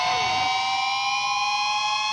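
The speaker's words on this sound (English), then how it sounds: "that's a beep." A sustained electronic censor beep, a steady loud tone held for about two seconds, alone without talk.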